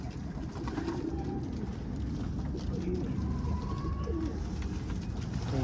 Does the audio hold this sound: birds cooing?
yes